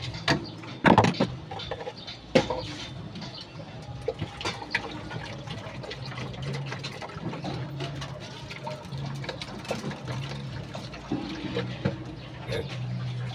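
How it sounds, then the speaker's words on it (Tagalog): Tap water runs and is poured into a cooking pot while garlic and oregano are boiled, a steady splashing flow with a few sharp knocks early on, moderately quiet throughout. "Tapos sasalin natin tubig mga kalapatids."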